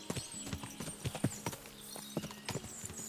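Horse hooves in the video game Kingdom Come Deliverance II make a close, rhythmic clip-clop of hard, evenly spaced strikes at a steady trot, with no talking.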